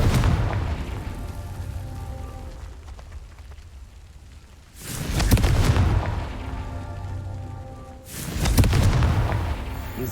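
Two heavy booming blasts from a fire-explosion spell in a wizard video game land a few seconds apart, each a loud broadband burst that rolls off slowly over steady game background.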